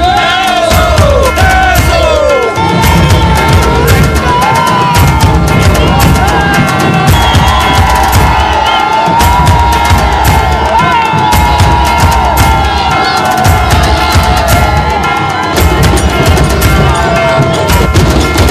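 Party workers and leaders outside a vote counting centre in Ratnagiri, after a 2014 assembly election win, send up a loud, sustained roar of crowd cheering and shouting, with whoops and bursts of noise continuing densely throughout.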